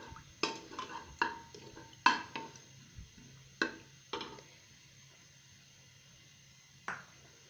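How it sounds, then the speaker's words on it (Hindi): Metal spoon stirring and scraping ginger garlic paste as it fries in a pot for Peshawari namkeen mutton gosht, giving a series of sharp clinks and taps at uneven intervals over a faint low hum, close and fairly quiet. "साथ ही मैं अदरक लहसुन का पेस्ट डाल दूंगी।"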